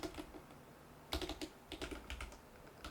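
A computer keyboard clatters as an SQL query is typed, with quick bursts of close, crisp keystrokes separated by short pauses, heard alone.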